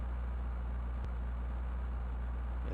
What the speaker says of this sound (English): the engine sound on this thing is dreadful